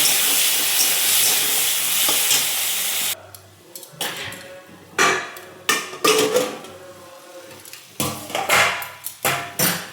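Potatoes and spices sizzle steadily in a hot pan while utensils scrape and clatter against it in irregular bursts, fairly close and loud.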